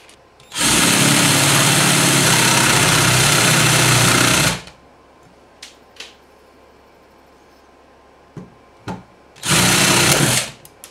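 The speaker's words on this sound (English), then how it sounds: "the next part is to drill that out." A power drill bores out a rivet holding a gas strut on a monitor bracket, two loud sustained whirring bursts of about four seconds and one second, with a few small clicks and knocks between them.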